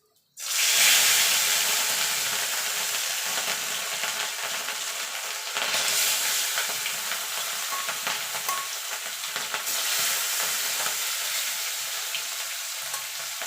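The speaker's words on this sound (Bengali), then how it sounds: "এবার মাছগুলো আমি এপিট ওপিট করে লাল লাল করে ভেজে নেব।" Rohu fish pieces fry in hot oil in a wok, a loud, continuous close sizzle and crackle that starts abruptly and holds steady with slight surges.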